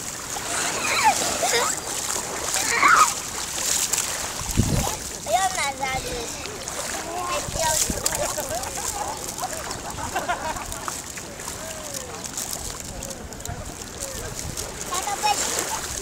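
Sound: ocean waves splashing on a beach

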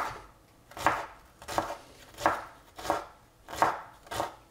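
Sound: chopping celery finely with a knife

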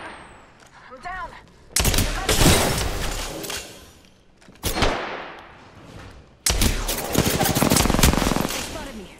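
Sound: enemy gunfire hitting the player in a video game

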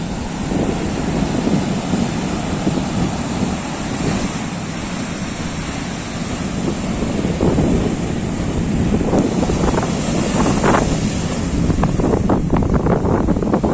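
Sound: sea waves crashing on Shankarpur beach in rain

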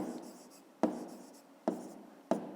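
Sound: writing by hand while solving a math exercise

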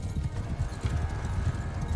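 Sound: horses trotting in Mount and Blade Bannerlord video game

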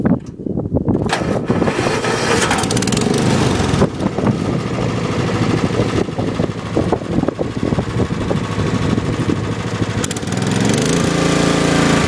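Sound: John Deere 130 lawn tractor engine starting and running

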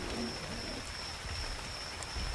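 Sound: rain in video game Ark Survival Evolved

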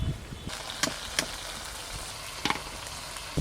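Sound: chicken frying and being stirred in a pan

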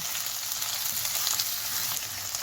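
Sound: chopped onions sautéing in a pan

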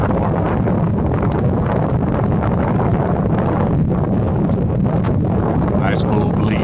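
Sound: breeze blowing, wind on the microphone

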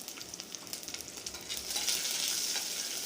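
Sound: mustard seeds, cumin, garlic and green chillies frying in oil

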